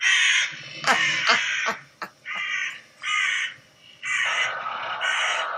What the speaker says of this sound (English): She heard some crows.